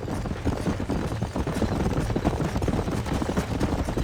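A steady clip-clop of several horses' hooves in Red Dead Redemption, a busy, fairly close trotting rhythm that carries on alone throughout with no voices.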